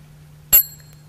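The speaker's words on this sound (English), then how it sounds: "This is a mini bell, and this one is a bell inviter." A mini mindfulness bell is struck once with a bell inviter, giving a single bright, close ring that decays quickly over a low steady hum.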